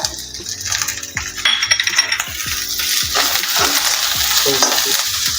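Capsicum stir-fried on a high flame for veg hakka noodles, loud rhythmic metallic clanks of a ladle against a wok over a continuous close sizzle.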